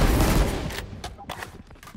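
Gunfire in a Team Deathmatch video game, a dense burst of rapid shots at the start that thins into scattered, quieter single shots and rattles over the rest.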